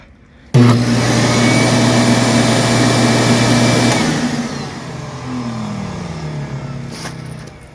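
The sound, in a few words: shop vac and motor of homemade lapidary machine running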